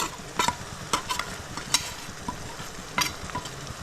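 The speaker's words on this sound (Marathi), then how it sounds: "आता हे सर्व व्यवस्थित आपल्याला परतून घ्यायचे चांगल्या प्रकारे परतून घ्यायचे" Coconut, onion and peanut masala paste sautéing in a pan for a crab curry, with quick, repeated spatula scrapes and stirs over a continuous frying sizzle, close and fairly loud.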